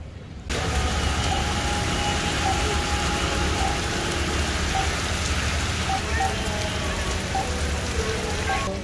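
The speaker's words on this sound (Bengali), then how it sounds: "প্রচুর বৃষ্টি নামছে" Heavy rain pours onto a street in Kuala Lumpur's Chinatown on Petaling Street, a steady dense hiss that holds for the whole stretch after a brief quieter start, with faint traffic underneath.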